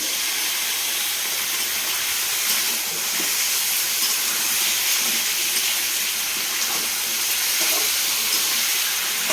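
Marinated chicken fries in a hot pan for capsicum chicken, a loud, steady hissing sizzle that holds constant throughout with no talking.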